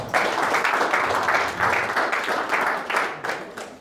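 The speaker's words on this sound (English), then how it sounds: "Let's give them a round of applause, folks." A round of applause from a seated audience congratulating winners at a trading seminar, steady dense clapping at moderate level that runs for a few seconds with slight swells.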